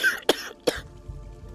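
Two short, harsh coughs close to a microphone, about half a second apart, with faint background noise continuing afterward.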